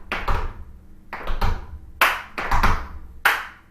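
Sharp, close hand claps and taps in uneven clusters of two or three during tap dance practice for a recital, with short pauses between the groups.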